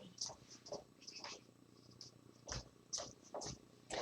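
A pet cat purring close by, a soft continuous rumble under repeated brief higher chirps or rustles, with no talk.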